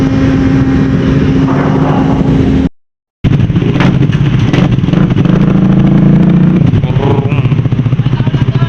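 Engines of many motorcycles rumble and rev at a busy boat port, a loud mix of running motors close by, cut by a brief silent gap, with faint voices in the background.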